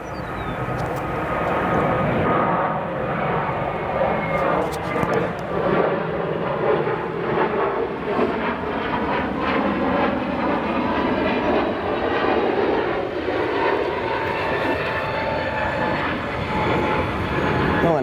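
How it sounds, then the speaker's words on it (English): An Airbus A321neo jet departs runway 28 right at O'Hare, its engines a broad, sustained roar that holds loud and steady throughout at a moderate distance. "Got a 321 Neo departing at 28 right."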